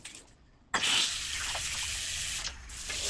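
Water gushes steadily from a newly installed bathroom faucet, starting abruptly after a brief quiet moment and running close and loud for a few seconds.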